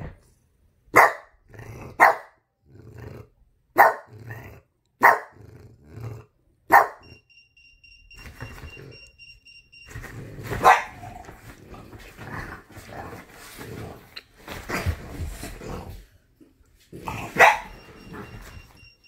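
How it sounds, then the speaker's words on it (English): A dog wearing a shock collar gives a series of sharp, loud barks at a quick rhythm, then growls and rumbles with further scattered barks, close by and with no talk. "I can tell you want to bark."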